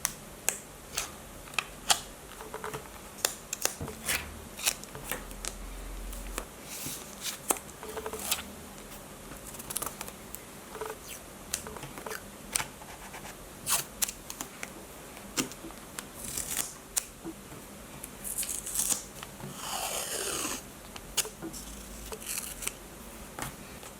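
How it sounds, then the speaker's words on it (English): Stickers being handled and peeled for bullet journal decorating, close and quiet, with frequent small crinkles, taps and sharp peeling rips scattered over a soft background, including one longer tearing sweep. "Before we continue, a little sticker ASMR intermission."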